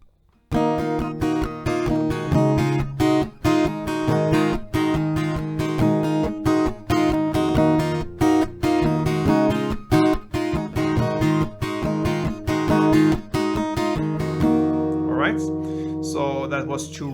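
Acoustic guitar strummed in a brisk, steady rhythm with a melody worked into the chords, played through two full rounds of the progression, close and loud with short choked pauses between strokes and a ringing finish.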